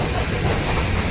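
Delhi Metro train running, a steady dense rumble with broadband hiss and a low rolling drone, continuous and close throughout with no distinct clacks standing out.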